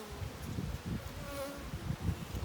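Honey bees buzz in a dense, continuous drone from an open beehive during an inspection, steady and close with no talk.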